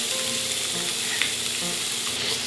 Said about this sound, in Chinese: 最后我们把我们的苹果放进去，再拌炒一下。